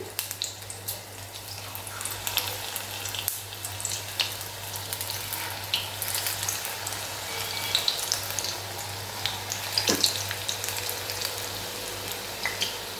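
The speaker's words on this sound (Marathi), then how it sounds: "आता इथे आपलं कढईतलं तेलसुद्धा तापलेलं आहे आता आपण एक एक करून भजी घालूया" Methi (fenugreek leaf) bhajji fritters frying in hot oil in a kadai, a steady soft sizzle and crackle with faint watery bubbling and small pops throughout, fairly quiet and continuous with no talking.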